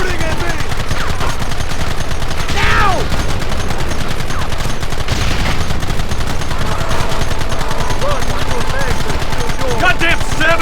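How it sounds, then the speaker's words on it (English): Dense, continuous shootout in Red Dead Redemption: rapid volleys of rifle and pistol shots crackle loudly throughout, overlapping with shouting voices. "Stop shooting at me!"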